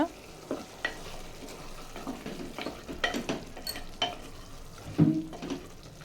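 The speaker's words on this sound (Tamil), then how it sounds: "இப்போது இந்த ஸ்டேஜில் நாம் அரைச்சி வச்சுருக்க மசாலாவையும் இதில் சேர்த்துடலாம் சேர்த்துட்டு இது நல்லா கலந்து விட்டுக்கோங்க" Ground masala paste being stirred into mutton frying in a pan for a pressure-cooker curry, with repeated scraping stir strokes over a low steady sizzle, close and moderately loud, no voices.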